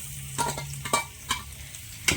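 Beef tripe fries lightly in a pan with a low steady sizzle, broken by several scraping stirs at a slow irregular pace, close and fairly clear, with no talking.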